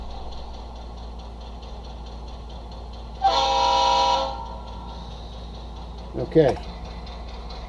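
A locomotive sound effect played through a small iPhone 6S Plus speaker in an HO model railway setup, with a faint steady rumble and a loud horn blast of about a second, then a brief clanking burst. A voice speaks once.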